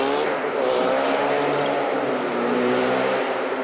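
A Ford EcoBoost engine running and revving at an indoor auto show, a loud, steady, buzzy engine note with a rising pitch sweep, heard alone without talk.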